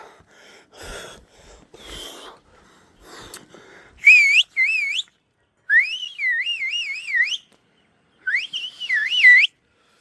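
Loud, piercing human whistles in several warbling bursts follow a few soft breathy sounds, with short pauses between the wavering, rising-and-falling phrases, outdoors on a hill.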